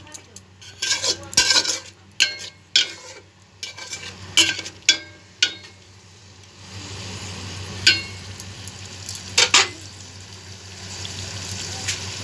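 Chicken biryani masala is sautéed in a pan: a spoon scrapes and knocks against the metal in quick bursts, then a steadier sizzle with occasional louder clanks, all close and without talk.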